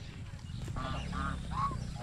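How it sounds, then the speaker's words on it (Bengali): Geese bathing in a small lake near a border area give a few short nasal honks in quick succession, faint and somewhat distant over low ambient noise. "এই দেখেন এখানে অনেকগুলো রাজহাঁস হচ্ছে গোসল করতেছে"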